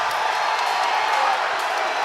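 A crowd cheers and roars at an Armored MMA live event in Pittsburgh, Pennsylvania. It is a loud, dense, continuous wall of crowd noise with scattered whoops and some clapping, lasting about two seconds.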